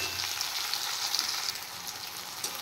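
Chopped tomatoes fry in a pan with a steady, bright sizzle that stays even and close throughout, with faint stirring scrapes now and then.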